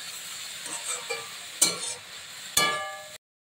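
Drumstick flowers are stirred in a frying pan with no salt or sugar added, giving a soft, steady sizzle broken by two sharp scraping clinks of the utensil against the pan before it cuts off.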